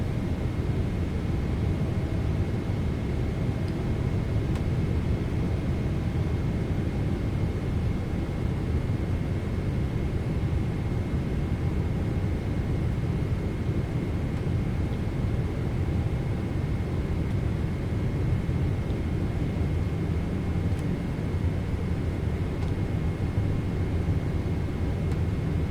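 Steady, loud roar of Boeing 777 jet engines in Microsoft Flight Simulator 2024 as thrust increases, a continuous broadband rumble with a faint whine, unbroken and with no talk.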